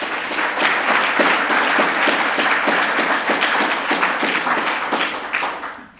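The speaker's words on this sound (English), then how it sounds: "I think they all deserve a round of applause from everybody here." A room full of people breaks into warm, even applause, many hands clapping together at close range for several seconds before fading out.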